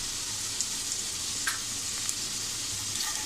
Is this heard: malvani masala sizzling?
yes